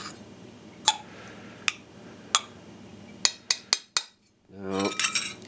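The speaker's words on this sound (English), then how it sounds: "let's get a little salt and pepper here, and mix it up a little bit" Couscous is stirred with salt and pepper, giving a run of crisp metallic clinks and ticks of a utensil against a bowl. The clinks speed up before a voice begins talking at the end.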